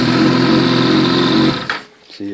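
An open-throttle-body 2009 Suzuki GSX-R 1000 engine revs with a loud, buzzy, high-pitched drone that cuts off abruptly, then briefly catches again at the end.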